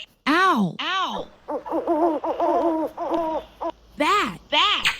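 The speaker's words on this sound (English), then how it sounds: "Owl. Owl." An owl hoots in a series of tonal calls. Two longer swooping notes open, then a run of short repeated hoots follows, and two more swooping calls close it. The calls are close and clear against silence.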